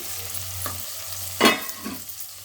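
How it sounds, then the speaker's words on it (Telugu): Stuffed eggplants, Andhra-style gutti vankaya, fry in a pan under a low background hum, with a few soft stirring scrapes and one louder clatter in the middle. "వీటిని మూత పెట్టుకొని ఇలా కాసేపు ఫ్రై అవనిద్దామండి"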